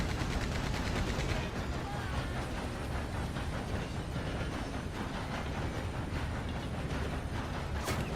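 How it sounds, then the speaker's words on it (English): Rapid machine gun fire from a train in the online Western game Red Dead Online, a dense, continuous crackle of shots that fills the whole stretch, loud and close with a rumbling rail-like bed beneath. "Get them with the machine gun."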